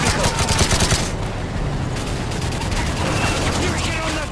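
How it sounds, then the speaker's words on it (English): Cover fire from a .50 caliber machine gun in the Call of Duty MW3 campaign: rapid, heavy bursts of gunfire with booming low thuds, over a continuous battle din and shouted voices. "Yuri, man the 50 caliber, lay down cover fire!"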